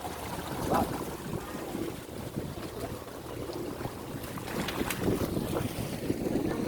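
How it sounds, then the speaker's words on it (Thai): Gusty wind buffets the microphone aboard a moving boat, with engine rumble and water noise underneath, steady and close throughout. "ลมหนาวมาก ลมพัดเย็นๆนะคะ"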